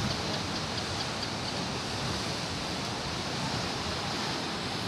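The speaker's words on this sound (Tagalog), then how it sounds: "Tingnan mo yung mga alon." Sea waves churning under strong habagat monsoon wind along the shore beside a house, a dense, steady roar of surf and wind filling the whole clip without pause, loud and close, with no voices.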